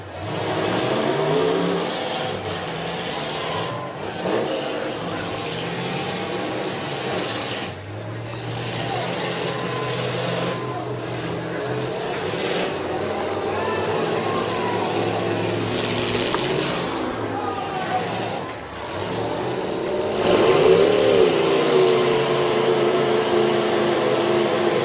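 Demolition derby car engine at the Portage County derby screaming against its rev limiter, a loud sustained revving drone with choppy bursts that runs nearly unbroken, with crowd and commentary noise mixed in throughout.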